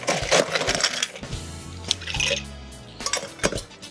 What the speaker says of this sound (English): So you'll add a little bit of ice in here right now.